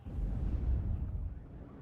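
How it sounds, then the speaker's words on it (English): A Tornado F3 jet's low, rumbling roar in the real-time strategy game WARNO, a heavy deep swell close by that fades over about two seconds, with no talk over it. "I hear the roaring sound of a Tornado F3"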